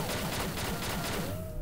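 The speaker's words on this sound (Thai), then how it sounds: "เดี๋ยวเราจะมาลองยิงลูกซอง EX 8ดาว Compete World Immortal นะครับ" An 8-star EX shotgun fires in the XSHOT online shooting game, a dense burst of rapid, loud gunshots filling the short moment before fading out.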